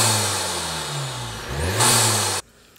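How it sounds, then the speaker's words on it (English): A Volkswagen Golf GTI MK7 turbo engine with an aftermarket intake revs up, its rising whoosh of induction and turbo spool building loudly, then the boost recirculation valve releases with a sharp hiss before cutting off abruptly. "Hearing it suck in air and recirculate the excess boost pressure is just such an enjoyable driving soundtrack."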